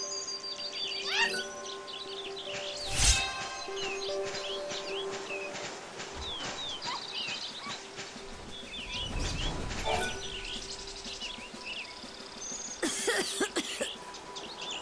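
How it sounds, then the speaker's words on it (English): Coughing in the video game Lightning Returns: Final Fantasy XIII, a few scattered coughs, one sharp and loud, over a backdrop of chirping birdsong that runs throughout. "I've been laid low with this cough."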